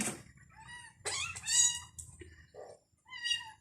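A hungry kitten abandoned by its mother meows repeatedly, several high, thin cries in close succession, loud and near, with faint background noise between calls.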